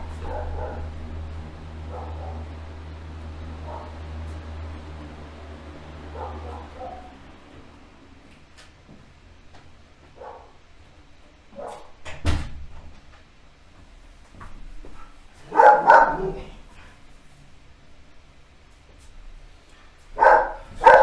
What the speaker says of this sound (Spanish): tengo una mascota bien ladradora y hasta parece que lo hace a propósito